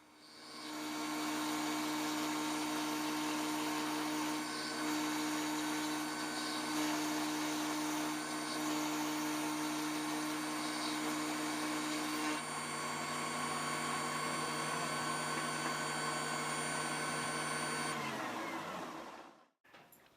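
A Shopsmith overhead router cuts a half-inch-deep groove in wood, a steady close high-pitched motor whine with a constant cutting tone that runs for about eighteen seconds before spinning down and stopping.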